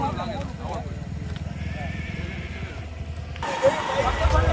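Kathiawari horse hooves clip-clop in a steady rhythm with an occasional whinny, under people talking outdoors at night, with a louder rustle near the end.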